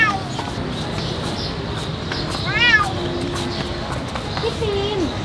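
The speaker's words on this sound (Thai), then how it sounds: "จะบอกนะว่าเสียงแมวมาจากกล่องนั้นน่ะ" Cat meowing from inside a box at a train station, a few plaintive cries rising above steady station noise and background chatter.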